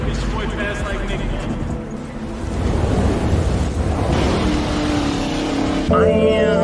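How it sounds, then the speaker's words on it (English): A deep car exhaust rumble runs throughout, swelling louder partway through, with broadband rushing noise over it. "The exhaust system he has on that thing is so beautiful."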